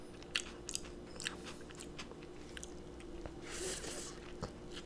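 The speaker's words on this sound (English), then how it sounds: "Now I get a full bite of cheese in there." Biting and chewing a cheesy elk burger with jalapeno cheddar and nacho cheese, heard up close as crisp crunches and soft squishy chewing over a few seconds, with no talking.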